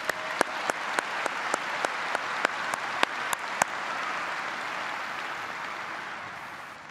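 Applause for the Board of Education at a high school commencement: a large crowd clapping steadily for several seconds, with sharp louder claps punctuating it at a regular beat, then fading gradually into a softer wash.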